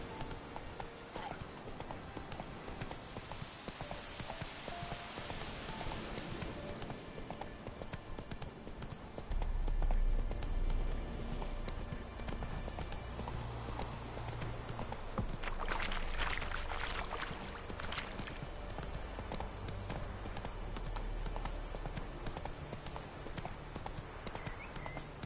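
Roach the horse gallops in The Witcher 3 video game, a fast, steady clip-clop of hooves running for the whole stretch over a low rumble, with rushing swells in between and no talking.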